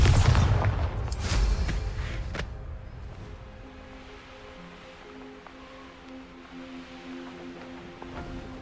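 A Bombarda blasting spell goes off in Hogwarts Legacy as one loud, close explosion with a heavy low boom and crackling debris, then a long fading rumble under a quiet, steady hum.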